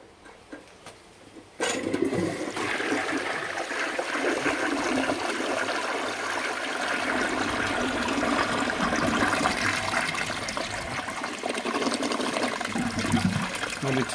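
A 1957 Universal Rundle toilet flushing, with a sudden loud rush of water that keeps roaring steadily for many seconds after a brief quieter moment with light knocks.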